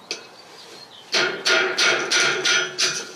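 A small-headed hammer drives a nail into metal J-channel skirting on a mobile home, with one light tap followed by six sharp, evenly spaced metallic blows, close and loud, with no talking.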